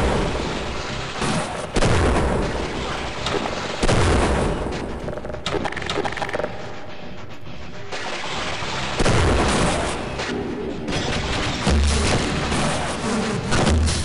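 Heavy gunfire and booming blasts in the Half-Life video game, loud dense bursts rising and falling across the stretch with no talking.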